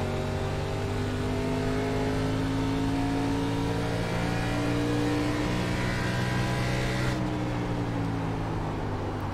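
Race car engine from the iRacing sim at Phoenix, National Series, a loud steady drone with harmonic whine that holds and shifts pitch slightly as the car laps, constant and close throughout with no talk.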